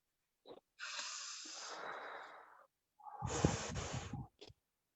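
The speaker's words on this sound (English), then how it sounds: "Breathe out from the mouth. When you are breathing out, do it with a straw kind of opening." Slow breaths during a breathing exercise: a long airy exhale through the mouth, a pause, then a second rushing breath, close and soft, with faint brief sniffs at either end.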